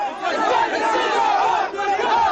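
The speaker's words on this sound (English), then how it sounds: "a huge and noisy crowd surrounded the aircraft" A huge, noisy crowd roars around an aircraft on arrival in Zintan, Libya, a dense wall of shouting, cheering and chanting voices that never lets up and stays loud and close throughout.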